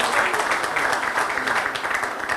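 Audience applause during a Trabzon artists' night show, a steady dense patter of clapping for about two and a half seconds, fairly loud and continuous.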